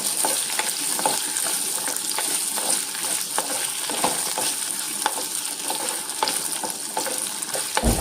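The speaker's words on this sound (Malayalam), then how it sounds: "ഇത് നല്ലോണം മാങ്ങ ഒന്ന് വഴന്ന് വെക്കട്ടെ" Raw mango sautés in oil with fenugreek, mustard seeds and sesame, a loud, steady crackling sizzle dotted with frequent small pops and occasional stirring taps, close and uninterrupted.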